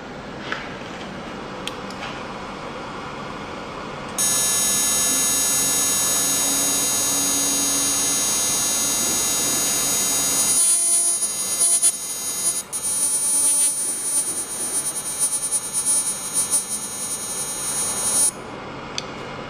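A PMI Master Pro metal analyzer runs a test on an aluminium sample, giving a steady electrical hum with a high tonal whine that starts a few seconds in and holds until near the end, with faint ticks throughout.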